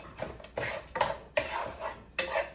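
Green peppers and onions are stirred in a pan for ravioli lasagna, giving several clattering scrapes of a utensil against the pan in irregular bursts, close and fairly quiet, with no talk.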